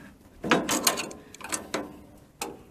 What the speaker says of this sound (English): So I'm loosening that big nut.